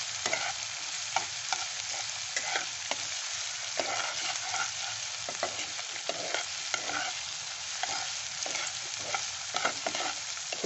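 Chicken pieces frying in oil with spices for a murgi bhuna, a steady broadband sizzle with repeated stirring scrapes and clicks through the whole stretch, close and even, with no voices.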